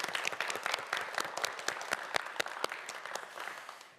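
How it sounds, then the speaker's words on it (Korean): A studio audience applauds warmly at a televised quiz show, many hands clapping together in a dense burst that gradually fades. "4명의 학생에게 다시 한번 큰 박수 부탁드립니다."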